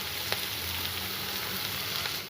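Vegetables frying with ginger-garlic paste in a pan for spinach pulao, a steady close hiss of sizzling oil throughout with a couple of faint scraping taps, no talking.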